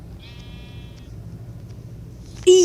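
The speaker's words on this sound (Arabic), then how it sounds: "اسمه صوت خرفان." A sheep bleats in Minecraft in a drawn-out, wavering call over a low background hum, and a sudden loud tonal burst follows at the end.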